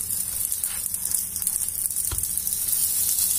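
Mini batbouts dough rounds frying in oil in a pan give a steady, close sizzle with a few faint scrapes and taps, and no talk.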